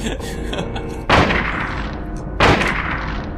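Two loud, sharp hunting-rifle shots ring out in a video game about a second apart, each followed by a short decaying tail over a steady game background.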